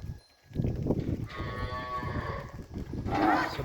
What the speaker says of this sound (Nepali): सम्पूर्ण गाईहरू अहिले बन जाँदैछन्।